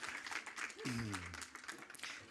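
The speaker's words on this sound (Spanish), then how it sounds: "Un aplauso, Andrés." Quiet applause at a corporate presentation event, light scattered clapping from a modest audience with a voice speaking briefly over it midway.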